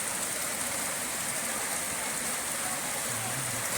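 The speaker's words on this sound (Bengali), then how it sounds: "তো বলতে বলতে সেই বৃষ্টি চলে আসছে, দেখো।" Steady, dense rain pours down outside a home in an even, loud hiss that fills the whole stretch without a break.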